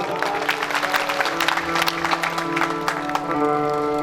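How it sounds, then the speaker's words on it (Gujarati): An audience at a religious satsang gathering claps together, a dense scattered patter of hand claps continuing steadily throughout, fairly near, with a faint voice and a sustained tone in the background. "તાળીથી બતાવજો"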